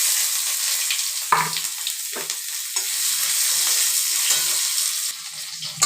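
Chopped onion frying in hot oil with bay leaf, dried chilli and five-spice seeds, giving a loud, steady, hissing sizzle up close, with a few brief stirring knocks and no talk.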